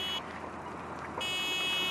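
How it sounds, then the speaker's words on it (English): A stuck car horn on a Ford Festiva with a failing clutch and tapping valves blares continuously, dipping briefly and then sounding again loud and steady. "Now you can probably tell my horn won't stop honking."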